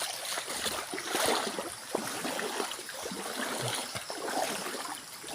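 Steady rushing water fills the clip, a broad continuous wash with small splashy ticks scattered through it, like a river flowing close by while people wade across.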